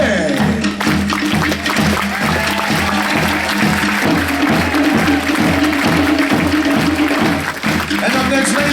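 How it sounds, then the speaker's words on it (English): Audience applause for performer Handsome Tony at a stage show, loud sustained clapping with a rhythmic beat underneath, crowd voices mixed in. "a round of applause for Handsome Tony"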